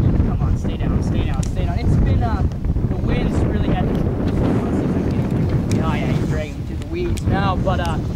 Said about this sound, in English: this wind condition is really tough